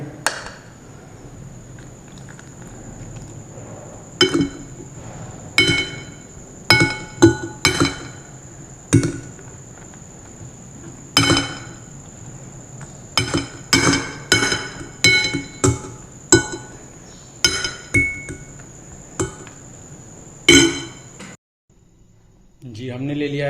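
Egg mixture seasoned with black pepper being whisked in a bowl, heard as a long run of sharp, irregular clinks and taps of utensil against the bowl, with spoken instruction underneath before a brief pause at the end.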